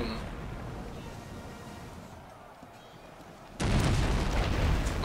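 In the video game Anno 1404, a ship being sunk sets off explosions, heard as a low rumbling ambience that swells into a loud, sustained burst of booming blasts near the end.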